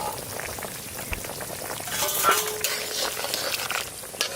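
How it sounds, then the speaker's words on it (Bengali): Koi fish frying in a pan, with a steady oily sizzle and occasional stirring and clinking of utensils, heard close and moderately loud with no talk. "একটু জল কই মাছ ভাজা"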